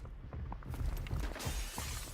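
Window glass shatters in a video game, a loud, dense burst of crashing and tinkling shards that keeps clattering over a rumbling game background.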